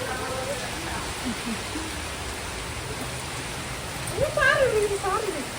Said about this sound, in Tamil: செம்ம மழைங்க நம்ம ஊர்ல, பட்டைய கலப்புது மழை